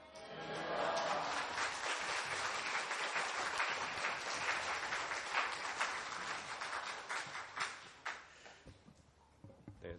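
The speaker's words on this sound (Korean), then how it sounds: "우리 할렐루야 하며 박수로 하나님께서 주실 말씀을 기대하며 환영하겠습니다." A church congregation claps to welcome the preacher, a dense, full round of applause that holds steady for most of the stretch, then thins into scattered claps and fades near the end.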